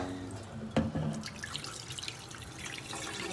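Tap water runs into a sink as vegetables get a second rinse, a steady close splash with a brief louder burst near the start and no talking.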